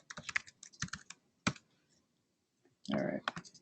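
Fingers type a password on a computer keyboard in close, crisp bursts of clicking keystrokes, separated by short pauses and followed by a denser flurry of keys.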